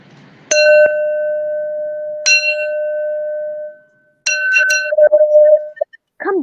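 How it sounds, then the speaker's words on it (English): Bells in a small loft are rung with a bell rope: bright metallic strikes with long sustained ringing, a pause, another peal, then a quicker cluster of clangs before a voice begins at the very end. "Now, where's that bell rope?"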